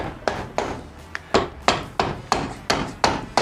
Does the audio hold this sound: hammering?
yes